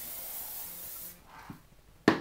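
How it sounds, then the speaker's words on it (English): A short hiss of hairspray misted onto hair, a single burst lasting about a second and close by, followed by a few soft handling sounds and a sharp click. "Bit of hairspray. Not too much"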